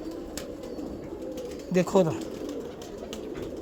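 Lakhy pigeons coo softly in a loft, with low murmuring calls throughout and a louder coo or two near the middle, while someone speaks briefly.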